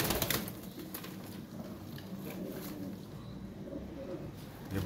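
Teddy pigeons coo softly in a loft amid a steady noisy background, with faint chirps and no talking.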